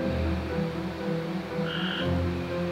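Frog croaking at night on the grounds of Brushy Mountain prison, repeated low pulsing croaks in a steady rhythm, close and clear over a constant background hum.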